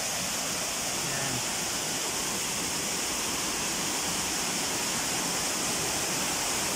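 River water rushes steadily near a waterfall at a resort, a dense, continuous broadband wash with no breaks, fairly close and loud, and no voices over it.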